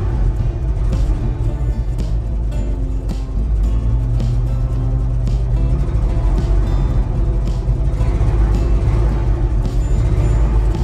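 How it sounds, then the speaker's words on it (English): A 1968 Ford F100 engine running rough and rich, a steady loud low rumble with RPMs climbing slightly, close by and continuous throughout. "She comes back up with a little higher RPMs. It's running really rough."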